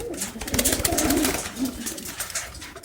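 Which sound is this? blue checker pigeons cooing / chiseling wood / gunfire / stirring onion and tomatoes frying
blue checker pigeons cooing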